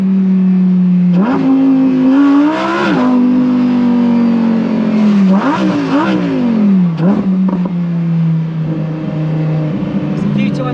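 A stock Ferrari SF90 Stradale hybrid supercar at the Goodwood Festival of Speed, its engine loud and close, surging through repeated rising revs and gear changes with a steady droning tone in between.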